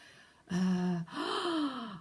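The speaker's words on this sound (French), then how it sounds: "voilà, une respiration" A person draws two audible breaths, a sharp gasping inhale followed by a longer, sighing one, close to the microphone with no speech.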